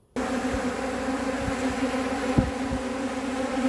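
A steady, dense hum of many honeybees buzzing close by, continuous throughout with a few brief low thumps.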